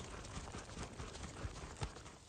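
Hooves of a Colombian paso fino horse clatter in a quick, even clip-clop, several distinct strikes over a soft background with no talking.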